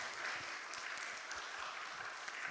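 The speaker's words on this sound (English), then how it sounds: "let's please give a round of applause to all the speakers and the moderator" Faint, steady applause from a conference audience thanking panel speakers and a moderator, continuous and distant-sounding throughout.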